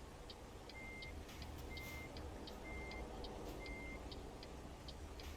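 Truck reversing alarm in American Truck Simulator, a rig backing up: steady evenly spaced beeps, about nine in a row, over a constant engine and road rumble, with no talking.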